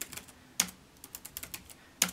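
Someone mashes a computer keyboard while testing a character LCD library, an irregular run of quiet key clicks with two sharper, louder strikes standing out, close by and with no talking.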